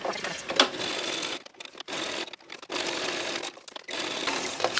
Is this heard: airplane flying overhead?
no